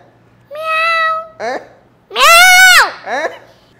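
A voice imitates a cat meowing in two pairs of calls, each a long drawn-out meow followed by a short one, the second long meow louder and more strained, close and loud.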